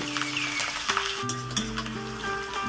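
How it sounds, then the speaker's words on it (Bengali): Cumin seeds and green chillies crackling in hot oil as a tempering, a close sizzle with quick pops, set against a sustained musical tone in the background; no one speaks. "দেখুন সুন্দর করে ফোড়নটাকে ভেজে নেব"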